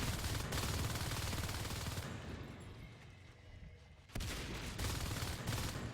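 Dense gunfire from the video game Natural Selection 2 rattles continuously, with rapid overlapping shotgun blasts that thin out briefly in the middle before the heavy firing resumes, loud and close.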